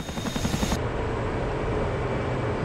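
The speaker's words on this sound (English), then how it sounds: "It'll be a Chinook or something." A Chinook helicopter flying in the DCS World combat flight simulator, a steady dense rotor and engine roar that holds constant and fairly loud throughout, with no talk over it.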